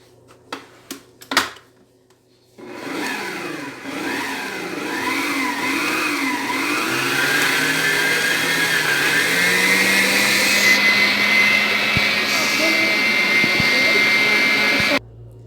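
An electric hand mixer whirs steadily while beating cake batter of butter, sugar, egg yolk and vanilla for an upside-down fruit cake, starting after a few clicks and running continuously near and fairly loud, its pitch wavering as it moves through the bowl.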